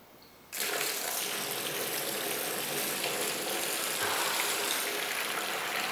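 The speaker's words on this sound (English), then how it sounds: "The last step, just add water." After a brief quiet moment, water gushes in a strong, steady stream into a bucket, loud and close, continuing without a break.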